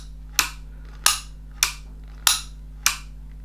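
A Dymo Omega label maker trigger squeezed five times, each giving a sharp mechanical click at a steady pace, with a faint electrical hum underneath and no talk.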